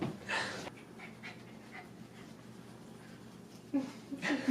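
A tired dog panting softly and quickly in a quiet indoor setting in winter, a steady faint breathing rhythm, with brief bursts of people talking at the start and end.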